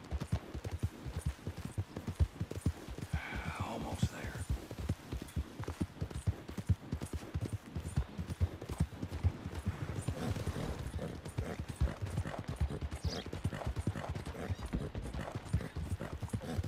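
A horse gallops at a fast, steady rhythm in the video game Red Dead Redemption 2, hoofbeats pounding continuously with faint creaking tack and occasional rustling in the background.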